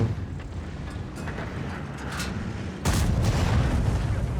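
Tank cannon fire in the online game World of Tanks, a loud booming blast that rolls out into a rumbling tail, with a second heavy report near the end.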